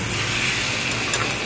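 Marinated chicken sizzling in a hot frying pan, a steady close hiss and crackle with no talking.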